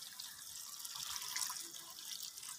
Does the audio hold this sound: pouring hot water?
yes